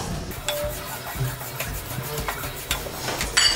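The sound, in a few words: sesame seeds crackling while dry-frying in a pan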